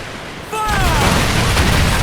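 Ship cannons fire during a naval battle in Assassin's Creed Black Flag, a sudden loud booming volley that bursts in and rumbles on over surging sea and wind, with shouted crew voices mixed in.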